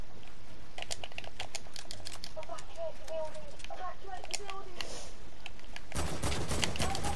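Fast, clicky video game gunfire crackles in rapid bursts throughout, overlapping keyboard-like tapping, with people talking over it and a louder broadband burst near the end.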